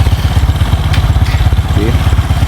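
A starter on a homemade tractor-motorbike cranks fast and loud with a weak battery, giving a rapid, steady chugging pulse close up for a couple of seconds.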